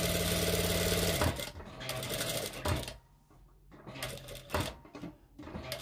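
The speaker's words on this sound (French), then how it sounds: "Il faut faire plusieurs va-et-vient ici pour voilà, solidifier la couture pour qu'elle ne s'ouvre pas." A sewing machine stitches a khimar in short back-and-forth bursts to reinforce a seam, its rapid needle chatter starting and stopping in uneven runs with brief pauses between.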